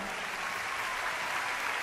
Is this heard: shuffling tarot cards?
no